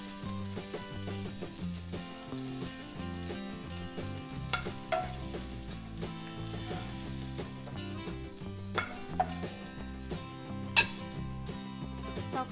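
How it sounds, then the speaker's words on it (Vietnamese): Steady sizzling of squid frying in a pan, with a utensil repeatedly scraping and clinking against the metal as it's stirred; no talking. "Sau khi là mực đã chiên vàng như vậy rồi các bạn,"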